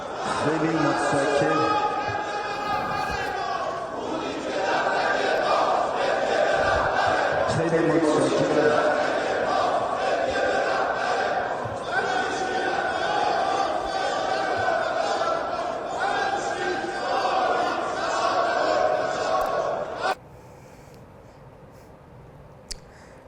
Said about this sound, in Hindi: ईरानी संसद में अब ये मुर्दाबाद के नारे जो हैं वो दोनों देशों के खिलाफ लगे हैं, अमेरिका मुर्दाबाद और इजराइल मुर्दाबाद के